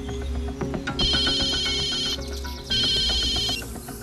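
A telephone ringtone sounds in a tense film scene, two long bursts of bright, warbling electronic ringing separated by a short pause, loud and close over a low background.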